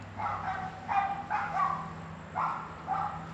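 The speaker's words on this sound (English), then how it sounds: "Sorry about the dog in the background there" Neighbours' dogs barking outdoors in the afternoon: about six yapping barks in an irregular rhythm, distant and fairly faint over a steady low hum.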